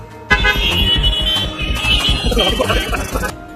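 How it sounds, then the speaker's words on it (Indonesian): Loud, busy city traffic in Mumbai, India, with repeated car horns honking over a steady engine rumble and slow-moving vehicles, with voices mixed into the din. "diiringi bunyi klakson yang tak henti-hentinya"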